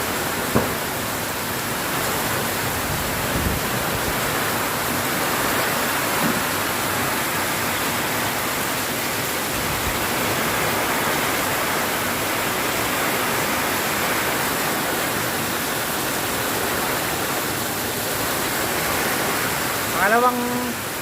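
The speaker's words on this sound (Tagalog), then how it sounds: "lakas na naman ng ulan" Heavy rain pours in a steady, dense roar that holds evenly from start to finish, with a brief higher sound near the end.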